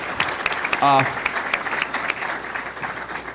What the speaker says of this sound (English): How about a big round of applause for Mr. Hill?